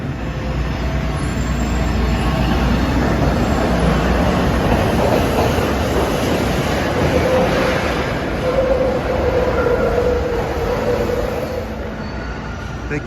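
Kawasaki-built trolley cars from the early 1980s roll past a Philadelphia stop, a loud, continuous rumble of wheels on rails with a faint high squeal, no voices.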